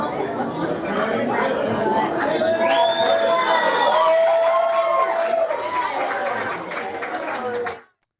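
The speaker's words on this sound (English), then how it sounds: "Clearly, there's a lot of cheering going on there." Crowd at a Republican 2020 election night watch party in Burlington cheering and chattering loudly, with whoops and shouting voices layered together before cutting off abruptly.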